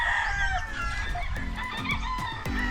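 Several roosters crow in overlapping calls, with hens clucking around them, close by and loud in an outdoor yard.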